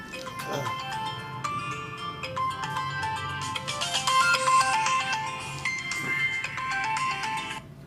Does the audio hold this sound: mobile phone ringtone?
yes